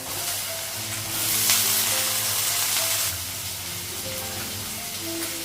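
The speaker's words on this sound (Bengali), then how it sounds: "আলুটা পেঁয়াজটা একসঙ্গে ভেজে রেখে" Potatoes and onions fry together in a pan, giving a steady crackling sizzle that swells briefly and then settles, with faint stirring and no voices.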